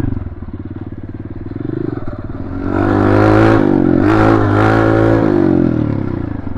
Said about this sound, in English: Pulling clutch, let it go, give it some gas, pulling clutch, and let go back.